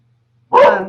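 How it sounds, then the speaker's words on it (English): A dog gives a single loud, close bark that starts halfway through and trails off, with no talking over it. "I apologize for the dog barking in the background"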